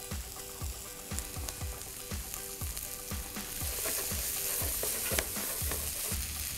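Kale sizzles in a hot pan for a chickpea and kale curry, with a rhythmic series of scraping stirs roughly every half second over a continuous frying crackle that grows slightly louder toward the end.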